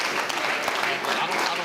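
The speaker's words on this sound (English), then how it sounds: "Give them a round of applause here just to thank them for leading us" Audience applause rings out for the worship leaders at a church summit gathering, a dense, steady patter of many clapping hands with a few sharper claps standing out, lasting under two seconds.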